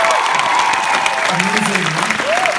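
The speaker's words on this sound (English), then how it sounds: "please, another hand of applause for the cast." Theatre audience applauds the cast at a Tick, Tick... Boom! curtain call, dense clapping with a voice speaking over it.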